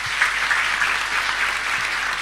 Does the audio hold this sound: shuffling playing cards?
no